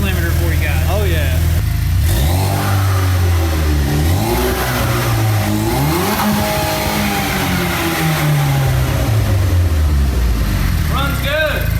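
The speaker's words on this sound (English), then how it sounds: "we're gonna let it warm up, and then we're gonna hit that rev limiter for you guys" Warmed-up engine of a salvaged car being converted into a street-legal race car, revved hard again and again toward the rev limiter. The pitch rises and falls repeatedly, loud and close, with no one talking over it.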